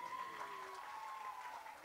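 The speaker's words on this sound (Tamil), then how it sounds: "இந்த படத்தோட டீமுக்கு ஒரு தடவை ஒரு பலத்த கைத்தட்டல்" Applause from an audience at the audio launch of the Tamil film Kuska, a steady, dense wash of clapping that holds for about two seconds with a thin tonal sound running over it.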